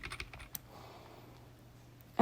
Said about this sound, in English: by using those bracket tools right next to the P on the keyboard